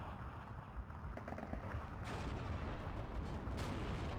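Distant rumbling artillery-style gunfire from infantry support guns in the war strategy game Steel Division 2, a steady low battle din with muffled booms throughout and a brief sharper burst near the end.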